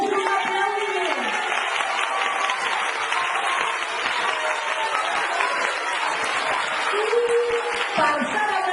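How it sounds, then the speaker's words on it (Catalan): An audience in a school theatre breaks into sustained, dense applause that stays loud and even throughout, with a few voices calling out over the clapping. "Això es mereix un aplaudiment."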